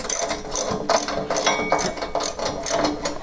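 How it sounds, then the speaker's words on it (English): A ratchet socket wrench with a 10 millimeter socket loosens auger shear bolts on a snowblower, giving rapid, repeated clicking bursts in a quick rhythm, close and fairly loud with no talk. "It's got a 10 millimeter wrench and a 10 millimeter socket on both sides."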